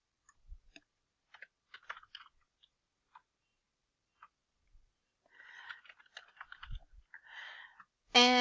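Sparse typing on a computer keyboard, faint scattered key clicks with long gaps, a short quicker run near the end, then a voice starts.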